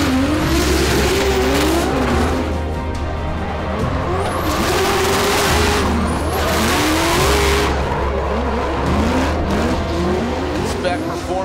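Nissan S14.5 drift car with an S15 front end during Formula Drift qualifying at Englishtown, engine revving and bouncing off the limiter while tires squeal loudly, with a commentator talking over it throughout.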